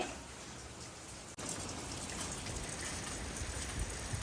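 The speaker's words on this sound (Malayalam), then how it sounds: "കാറ്റും മഴയൊക്കെ നല്ല രീതിയിൽ തന്നെ ഇതാ പെയ്ത് തകർത്തുകൊണ്ടിരിക്കുകയാണല്ലോ" Heavy monsoon rain pours down outside during a windy day, a dense, continuous hiss and patter of drops hitting surfaces. It holds loud and steady apart from one split-second dropout near the start, with no voices.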